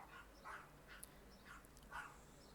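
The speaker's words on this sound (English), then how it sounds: "the neighbor's dog is like going off" A neighbor's dog barks in the distance, faint repeated yaps at irregular intervals drifting over a quiet room hum.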